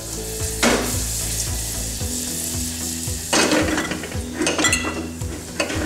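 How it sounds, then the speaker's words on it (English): Garlic, mustard seeds and star anise sizzle in butter in a pan, a constant crackling fry punctuated by scraping stirs and clinks of a utensil against the cookware. "those mustard seeds and the star anise, they've just been sautéed off in the butter"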